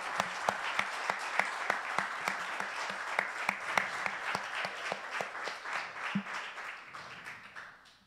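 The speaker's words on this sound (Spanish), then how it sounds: "Un aplauso para el Señor." A church congregation at a Spanish-language fasting service applauds together, steady brisk clapping from many hands that fills the room, gradually thinning and fading toward the end.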